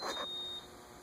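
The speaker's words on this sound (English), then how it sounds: "Wait, it's beeping again." A single short, high electronic beep from a Casablanca ceiling fan's InteliTouch control sounds close by, fading into a quiet steady hum.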